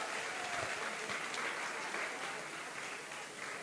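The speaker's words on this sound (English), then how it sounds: "Applause, applause, applause." Audience applause at a science innovation competition ceremony as participants are called forward, a steady, moderately quiet wash of clapping for a few seconds that gradually softens.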